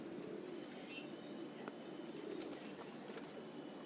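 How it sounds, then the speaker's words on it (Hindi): Soft low coos from Banarsi Kashni pigeons repeat faintly against a steady background hiss, with a few small chirps and rustles nearby. "देखिए कितनी बड़ी बगल की कबूतरी है, बहुत अच्छी कबूतरी है"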